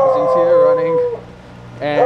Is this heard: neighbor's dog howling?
yes